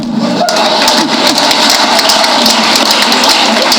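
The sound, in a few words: audience applause at a Hindi comedy poetry event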